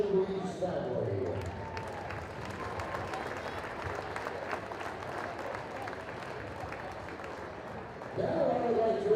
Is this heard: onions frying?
no